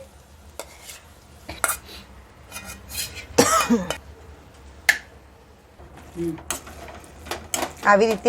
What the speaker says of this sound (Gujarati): એકદમ સરસ મિક્સ કરી દેવાનું એટલે બટાકાના ક્યાં ગાંઠા રહી ગયા હોય તો ભાગી જાય અને સરસ મિક્સ થઈ જાય